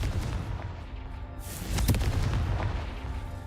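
A Confringo fire spell bursts in Hogwarts Legacy, a sudden booming explosion midway through a dull low rumble of game ambience, close and fairly loud, with no speech.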